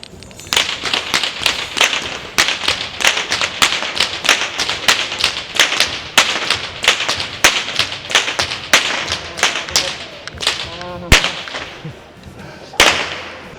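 Children cracking whips outdoors, a rapid irregular series of sharp, loud cracks that sound like firecrackers, going on steadily with brief gaps and one especially loud snap near the end.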